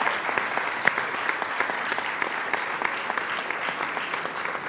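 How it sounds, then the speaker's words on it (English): Applause at a school graduation ceremony, a dense crowd clapping steadily and loudly for the full stretch with no pause, the claps blending into a continuous wash. "one final round of applause to all of our academic distinctive students"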